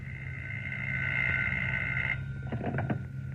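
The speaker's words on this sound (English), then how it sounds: "As I came up the stairs, I heard my phone ringing." An old-fashioned telephone rings in a live radio drama, a steady electric bell tone held for about two seconds, then breaking into shorter rattling bursts, moderately quiet against a low background hum.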